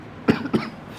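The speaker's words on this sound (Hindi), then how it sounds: "मुझे थोड़ी खांसी है" Two quick, close coughs from a man come in rapid succession against a quiet room background.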